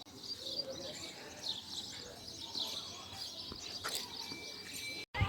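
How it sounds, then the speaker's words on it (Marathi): Sparrows chirp on a rooftop terrace the morning after heavy overnight rain. The twittering is steady and busy, fairly close, and runs over a low background hush. "छान चिमण्या चिवचिव करतायत."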